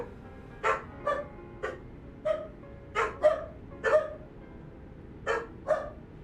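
Dogs bark in a string of about ten sharp, separate yaps and yips, spaced irregularly at moderate distance over a quiet background.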